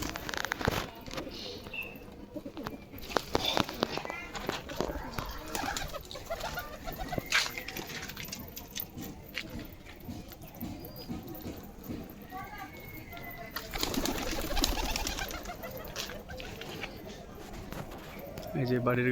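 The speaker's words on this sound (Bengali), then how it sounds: "দুটো পায়রা আছে, ওরা শুধু মাটি খেতে নামে নিচে" Two pigeons coo softly on the ground as they peck at soil, their low calls repeating off and on close by, while a person talks over them almost throughout.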